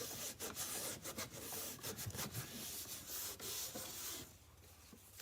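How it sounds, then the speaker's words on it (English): A textured wooden chest is buffed by hand, with repeated soft rubbing strokes in an uneven rhythm, close and quiet, ending in a brief lull. "Just buffing it. You can kind of see the sheen."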